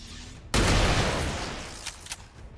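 A burst of gunfire from the turn-based strategy game XCOM 2: War of the Chosen erupts suddenly and loudly, then its noisy blast decays slowly, with a couple of faint later cracks near the end.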